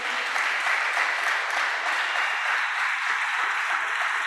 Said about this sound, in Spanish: Le damos palmas al Señor por esto.